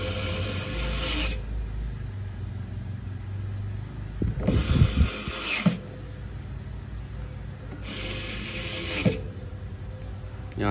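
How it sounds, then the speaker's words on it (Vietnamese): A screwdriver drives the remaining screws into a Realme 8 Pro phone during an AMOLED screen replacement, heard as three rasping, ratcheting bursts separated by quieter gaps under a steady low background hum. "Tiếp tục nó bắt những con ốc còn lại các bạn."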